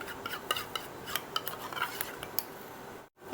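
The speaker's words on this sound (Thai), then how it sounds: "คนให้ผงกาแฟเนี่ยเขาแตก" A spoon clinks and scrapes against a cup while instant coffee powder is stirred into warm water, a quick series of light metallic taps close by, ending in a brief silence.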